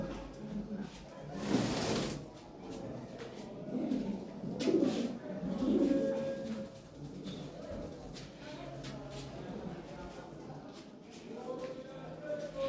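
Large Lahore siraji pigeons in breeding mood coo softly at moderate distance, with low rolling coos repeating across the stretch along with a brief rustle near the start.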